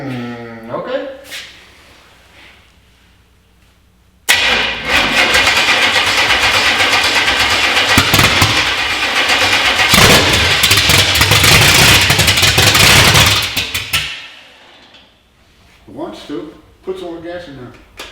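A small-block Chevy V8 in a 1964 C10 pickup fires up for the first time, roaring loud and steady for about ten seconds after a stretch of talk, then shutting off as voices resume.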